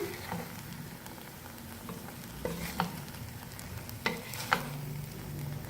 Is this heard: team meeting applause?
no